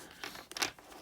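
A thick cardstock tarot deck being shuffled, giving a brief burst of crisp card riffling and crinkly scraping, close and fairly quiet, with no voices.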